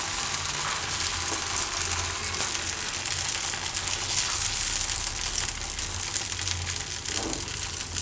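Garlic uttapam batter spreading on a hot pan, giving a steady broad sizzle that hisses continuously and evenly throughout, close and fairly loud with no talk.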